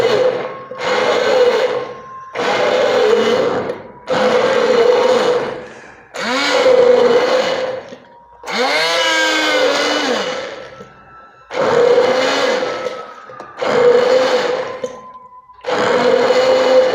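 Kitchen blender grinding garlic, loud repeated pulses of motor whir, about nine bursts of one to two seconds separated by short silences, the pitch shifting and wavering as the load changes.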